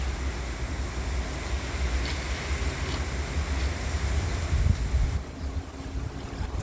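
Strong wind gusting hard at Rama 2 Road in Bang Khun Thian, Bangkok, a steady loud rushing roar with heavy low buffeting on the microphone, no voices.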